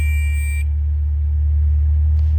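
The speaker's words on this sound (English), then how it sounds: "We'll fire it up here" A 1977 MG MGB convertible engine runs with a loud, steady low rumble close by, a high seatbelt buzzer tone sounding briefly at first before cutting off, leaving the engine droning alone.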